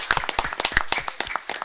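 Brief burst of applause at a school district board of trustees meeting, a roomful of hands clapping together in a quick, dense patter.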